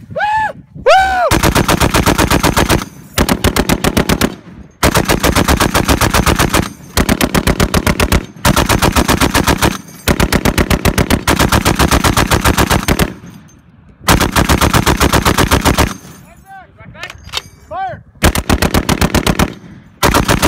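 An M2 A1 .50 caliber machine gun fires a series of loud, rapid bursts, each lasting one to two seconds, separated by short pauses, with a voice briefly audible between bursts.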